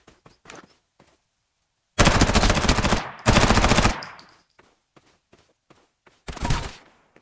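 Machine gun fire in the video game Farlight 84, two loud sustained bursts of rapid automatic shots followed by a shorter third burst, separated by quiet gaps with faint clicks and footsteps.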